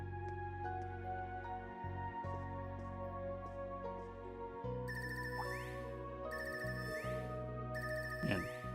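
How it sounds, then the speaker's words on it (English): A phone ringtone in the video game Trails of Cold Steel 3 plays as a steady repeating electronic melody with bright chiming bursts, fairly quiet, with no talking. "And this ringtone."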